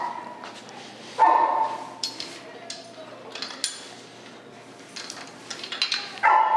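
Dogs at a dog training facility give a few sharp barks and yips, moderately near, over a quiet room with scattered clinks of metal.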